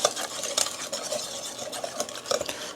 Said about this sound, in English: So you can either use your whisk or the spatula, doesn't matter, spoon, anything, just to get it well mixed up.